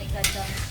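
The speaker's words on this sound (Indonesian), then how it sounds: "Proses menggoreng ampas kelapa bersama dengan bumbu masakan tadi paling tidak membutuhkan waktu" Grated coconut pulp frying with cooking spices for a ketan pencok filling, a steady low sizzle under continuous stirring with one brighter scrape of the utensil against the pan near the start.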